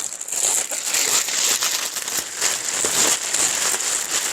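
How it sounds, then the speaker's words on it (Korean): A large plastic kimjang bag being handled in a kitchen for brining chicken, giving loud, continuous crinkling and rustling close by, with no speech. "요 김장 비닐인데"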